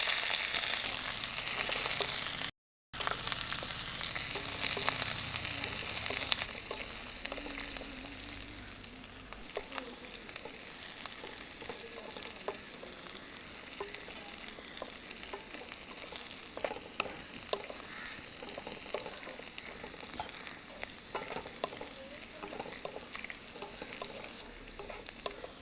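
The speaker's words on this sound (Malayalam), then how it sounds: "വെളുത്തുള്ളി, കുറച്ച് ഉള്ളി ഇട്ട് കൊടുക്കാം." Garlic and onion frying in a pan for a drumstick-leaf and tomato curry, a soft, steady sizzle with irregular crackles and stirring scrapes, fairly faint and close, without talk.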